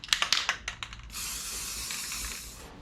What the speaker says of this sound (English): So I'm just going to hit the bare spots now with rust reformer